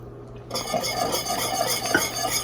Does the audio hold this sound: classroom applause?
no